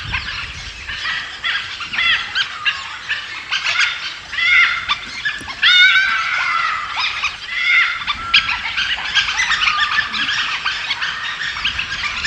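Packs of wild dogs clash in a fight over territory, with a chaotic chorus of high yelps, squeals and chattering calls rising and falling from several animals at close range.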